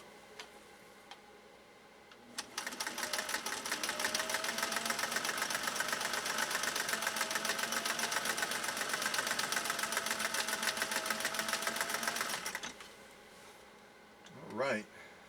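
Singer 401A sewing machine running a pattern stitch, a fast rhythmic mechanical ticking and whirring sustained for about ten seconds, loud and close, with a voice briefly at the end.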